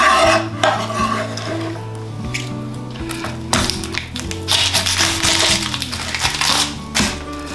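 Tomatoes dumped into a pot for Ital stew and stirred, with clattering taps and scraping of utensil against cookware over a steady background hum, fairly loud and busy throughout.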